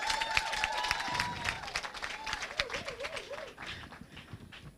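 Applause from a room at an International Women's Day celebration at a bank, brisk scattered clapping with a few voices calling out over it, moderately loud and tapering slightly toward the end.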